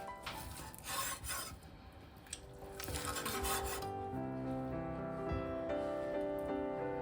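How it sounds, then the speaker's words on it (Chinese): A knife slices a crispy, golden pan-fried pork chop into small pieces on a cutting board, giving rough rasping crunches in bursts over steady background music. "放到案板上，改刀切成小块"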